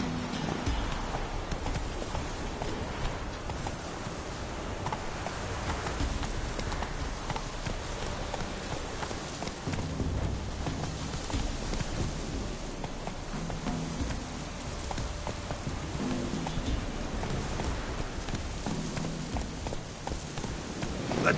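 The horse Roach gallops in The Witcher 3 on PS4, a steady rhythmic drum of hooves running continuously at moderate volume under ambient game sound, with no talking.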